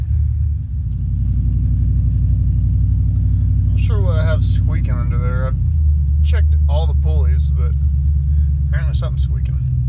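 Truck fitted with a swapped 6.0 engine idles with a steady low rumble close by, a brief squeak under the vehicle, while someone talks over it.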